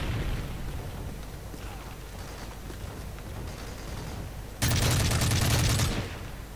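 Call of Duty: Modern Warfare 3 gameplay on PC brings a constant wash of battle noise, then a sudden loud burst as a grenade explodes amid gunfire, faint voices under the din.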